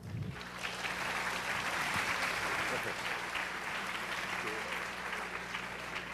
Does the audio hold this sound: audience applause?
yes